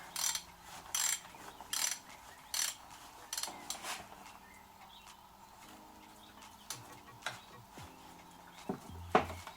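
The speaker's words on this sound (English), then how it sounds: "At this point I can probably get a shorter ratchet" A ratchet wrench working on the belt tensioner of a BMW 740i E38 engine, with bursts of rapid clicking strokes repeating in an uneven rhythm, close and moderately loud, ending in a louder clunk.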